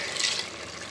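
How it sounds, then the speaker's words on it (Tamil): Water poured over rice in a pot for budget biryani: a short, bright, splashing pour with a hissing trickle, close and fairly loud. "இப்போ இதில் தண்ணி கலந்துக்கலாம்."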